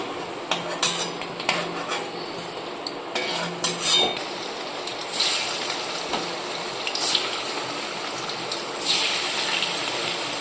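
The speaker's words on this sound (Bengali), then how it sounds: "এখানে আমি একটু গামলায় জল দিয়ে দিচ্ছি" Water splashes and gushes into a bowl amid clinks of utensils, steady pouring building up later in the clip.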